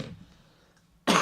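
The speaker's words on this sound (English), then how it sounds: "this cough is awful" A person coughs once, a short, loud, harsh burst right at the end after a near-silent pause, close to the microphone.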